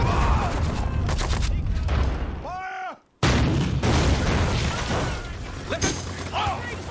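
Mortar and grenade launcher fire pounds a building in a WWII combat scene: loud, dense booms and gunfire roll almost without a break, cut out briefly for a moment of silence, then return heavy and sustained, with voices under the battle.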